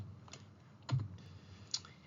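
A few isolated key clicks on a computer keyboard while typing a paper title, quiet and close, with a sharper tap near the end.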